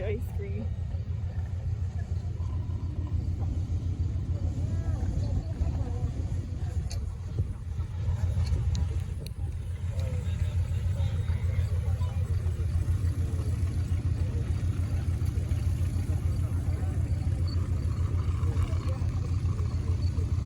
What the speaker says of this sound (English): a Jeep that was used by the Canadian signals during World War II